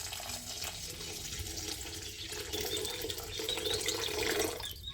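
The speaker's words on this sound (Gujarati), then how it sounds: "આપણે પાણી નાખી દઈએ" Water runs steadily into a pot with sugar for gulab jamun syrup, a soft, continuous trickle and splash that grows slightly fuller toward the end.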